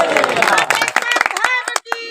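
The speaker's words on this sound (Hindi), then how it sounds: "और एक बार तालियों से स्वागत हमारी माताओं का।" Audience at a religious gathering clapping to welcome the mothers, with quick, irregular hand claps mixed with voices and chanting, fading toward the end.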